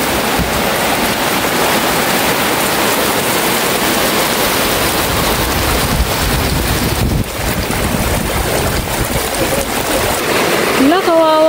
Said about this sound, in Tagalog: Non-stop ang ulan.